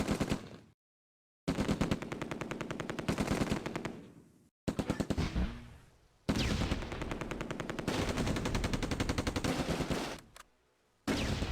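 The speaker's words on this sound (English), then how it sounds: "The rear anti-tank gun fires at the Panther and misses." Gunfire in the Close Combat war game, an anti-tank gun and mortars among rapid machine-gun style bursts in loud clustered volleys, separated by abrupt silences and lulls.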